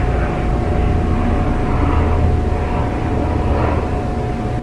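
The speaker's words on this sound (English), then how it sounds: "that was a helicopter, by the way." A helicopter flying overhead near a concert venue, a loud, steady mechanical drone with a constant hum that holds throughout.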